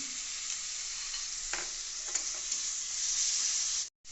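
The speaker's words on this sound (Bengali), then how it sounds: "রসুন বাটা রসুন তারপরে দেওয়া হচ্ছে কেটে রাখা কাঁচা লঙ্কা" Chopped green chillies added to a pan with garlic paste, sizzling in hot oil as they are stirred, a steady fairly faint hiss with a few light scraping clinks, ending in an abrupt cut.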